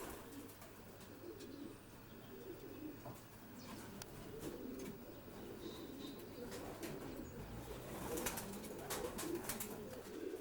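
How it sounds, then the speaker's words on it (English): Racing pigeons coo softly and continuously inside a loft, a low murmuring chorus with occasional wing flutters and faint clicks, heard quietly at close range. "This is another nice pigeon, Edward."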